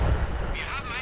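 Tank cannon firing in a Cold War tank video game, one deep booming blast with a rumbling low tail that fades over about a second, loud and close.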